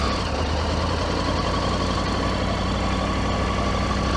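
A 2024 Triumph Tiger 900GT motorcycle engine rolls along in second gear with no throttle, giving a steady, close, low rumbling drone throughout.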